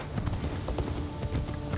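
Horse hooves clip-clop in a steady trotting rhythm in a video game, fairly faint and continuous with no talk.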